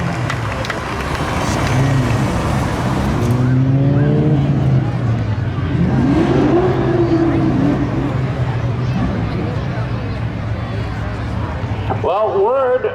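Drag-racing cars roar past at a speedway, a '64 Chevelle among them, heard loud and close at first. Whining engine pitches sweep up and down over crowd noise, and excited commentary runs over the sound throughout.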